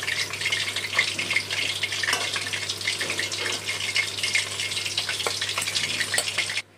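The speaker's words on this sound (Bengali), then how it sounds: "আবারও তেলটা ভালো করে গরম করে নিয়ে মাছগুলো তেলের মধ্যে দিয়ে দিলাম" Pabda fish fry in hot oil in a pan, a loud continuous crackling sizzle close up with scattered pops and spits, ending abruptly, with no talking.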